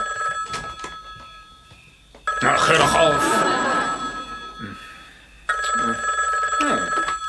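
A telephone bell rings loudly in repeated long bursts with pauses between them, and someone speaks briefly during the ringing.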